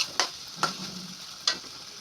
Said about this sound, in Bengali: এবার সবজিগুলি একটু হালকা ভাজা করে দিয়ে দিলাম